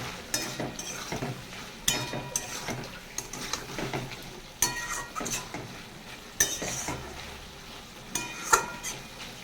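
Prawn, potato and pointed gourd curry simmers and sizzles in a pan, with a spoon scraping and clinking against the metal in repeated stirring strokes over a steady frying hiss, close up and without speech.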